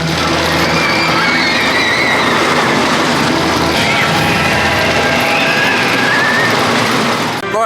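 Loud ride on the Wickerman wooden roller coaster, a continuous roaring rumble of wheels on track with squealing tones and rattling clatter, faint voices mixed in, steady throughout.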